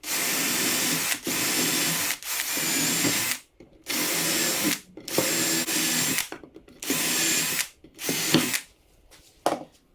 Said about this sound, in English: I'm going to go ahead and drill 1/4 inch holes.